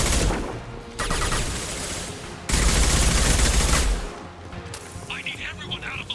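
Gunfire erupts in Mass Effect 2, rapid bursts of loud automatic shots in blocks separated by brief gaps, mixed with thuds and battle noise, with a voice over the fighting.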